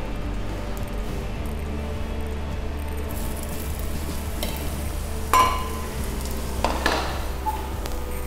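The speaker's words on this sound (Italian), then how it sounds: "burro ben caldo, padella bollente, sfrigoli velocemente. E vado dentro con le pesche." Peaches go into hot, well-heated butter in a sizzling pan for a risotto with Volpedo peaches, giving a steady close frying hiss with a few clinks of utensils.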